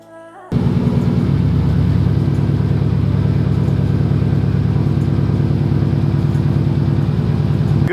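After a quiet moment, a car engine cranks and catches, then settles into a loud, steady idle rumble that continues to the end.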